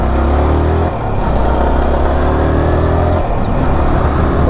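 A Yamaha R15 V4 motorbike engine drones loudly and close, with shifting rumble and brief revs as it rides along, wind and road noise mixed in.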